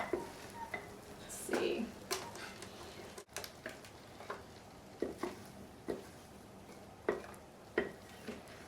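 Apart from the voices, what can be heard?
spoon scooping shampoo bar mixture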